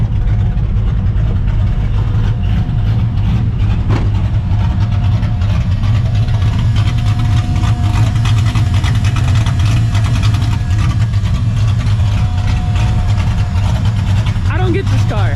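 A Ford Mustang GT with a swapped Coyote V8 idles loudly and steadily at the roadside, a deep continuous rumble that runs through the whole stretch.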